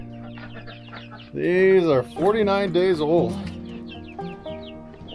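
Chickens and ducks in a roomy coop, 49-day-old birds clucking with a loud bird call rising in the middle, someone talking over them throughout.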